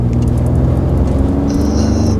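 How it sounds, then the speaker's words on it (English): A 2018 Ford F-150 FX4 with a turbo V6 and no performance muffler drives along, giving a steady low engine rumble with a faint high whine entering toward the end. "you can hear the turbo, you can hear the V6 engine"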